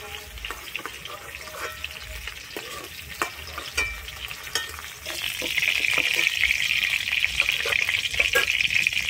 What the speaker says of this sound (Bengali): আমি পটলটাও কিন্তু খুব সুন্দর লাল করে ভেজে নেব